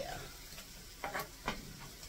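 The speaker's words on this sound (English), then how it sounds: "we're going to get this fried up a little bit" Hamburger and garlic frying in a pan, a quiet steady sizzle broken by a few soft scrapes and taps of stirring.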